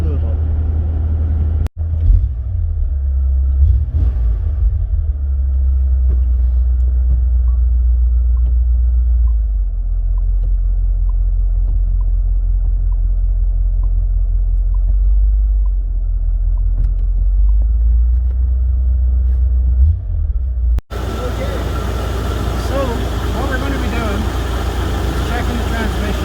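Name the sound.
car engine revving through the gears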